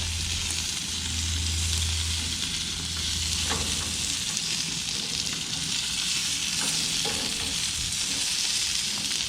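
Zucchini, tomato and onion sizzle on a hot grill as they are flipped with a spatula. There is a steady, close frying hiss, with a few sharp clicks and scrapes of the spatula against the grate.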